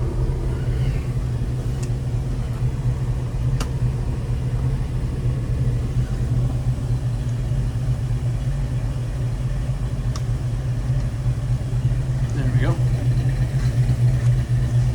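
A restored 1970 Ford Bronco with a 302 V8 idles with a steady, deep exhaust rumble that stays close and even throughout, while a person speaks briefly over it.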